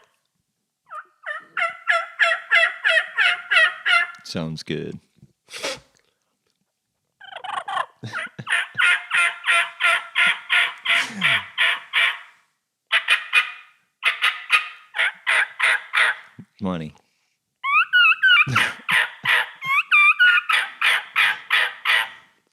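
Rapid bursts of recorded wild turkey gobbling played loudly from a FoxPro electronic caller in repeated series with short gaps, with a brief spoken remark between calls.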